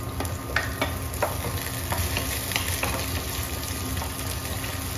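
Onion frying and sizzling in a pan for squid adobo, stirred with a utensil that scrapes and knocks at irregular moments over a steady hiss, close and alone with no talk.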